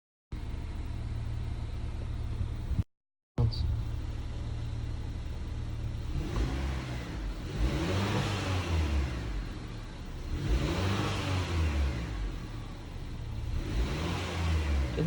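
2018-2020 Honda Accord 2.0 engine fitted with a high volume intake, idling steadily and then revving up three times in smooth, rising and falling surges, heard close with no talk.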